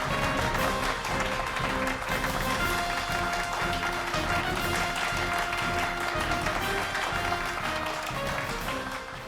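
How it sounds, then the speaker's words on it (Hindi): An audience claps steadily to welcome a magician onto a stage, a dense sustained patter of many hands at moderate distance that holds for several seconds before easing slightly. "तो जोरदार तालियों के साथ स्वागत कीजिए जादूगर तुषार राजेश्वर जी का"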